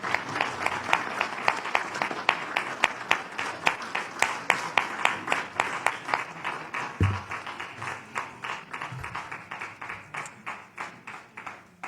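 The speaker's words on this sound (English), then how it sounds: "Let's give them all a round of applause." An audience at a candidate forum for a municipal election applauds with steady, rhythmic claps that go on for several seconds and slowly thin out, and a couple of dull thumps break in partway through.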